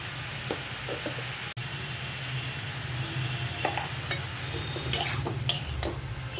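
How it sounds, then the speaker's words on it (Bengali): Chopped onion and green chilli frying in a hot spiced oil tempering for a banana stem dish, with a steady sizzle under scattered stirring scrapes and a few clinks of a spoon against the pan. "এবারে এই কেটে রাখা পেঁয়াজ আর কাঁচা লঙ্কা দিয়ে দেবো ফোরের মধ্যে"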